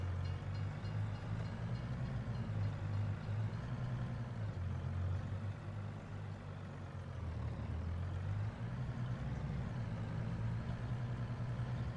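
A truck engine in Farming Simulator 22 drones steadily at a low pitch, with a constant rumble and gentle shifts in tone as it drives along. No voices are heard.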